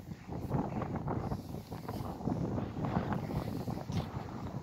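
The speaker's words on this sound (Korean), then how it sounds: "바람이 많이 불죠. 바람 소리 많이 나죠." Steady, gusty wind rumbles across the microphone outdoors at Baeksajang Port on Anmyeondo, Korea, near the sea, a continuous broadband roar with no voices.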